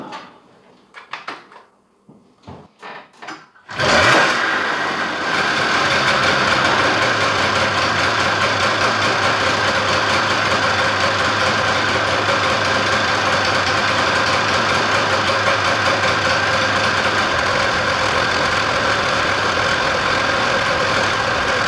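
An old garden tractor engine in need of attention starts after a few faint knocks, then settles into a loud, steady idle with a constant low drone that runs uninterrupted to the end.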